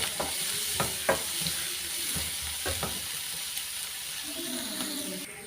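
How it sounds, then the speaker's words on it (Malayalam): Chillies and onion sautéing in a pan, a steady soft sizzle running throughout with several brief scraping stirs of a spatula near the start, close and moderately loud with no talk. "ഇതൊന്നും വഴറ്റിയിട്ടട്ടെ നമ്മൾ, ഒന്നും മൂപ്പിച്ചിട്ട്"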